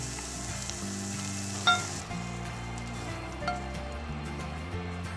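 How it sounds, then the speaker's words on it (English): Shrimp pan-frying in a hot pan, a continuous close sizzle with a couple of faint clinks, the bright hiss easing slightly partway through, with no voices. "Pan fry them for about 2 minutes on each side"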